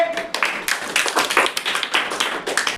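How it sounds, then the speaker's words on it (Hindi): Students in a classroom clapping loudly together in a fast, uneven rhythm of sharp hand claps, close and continuous with no talking. "के लिए जोरदार ताली बजाइए।"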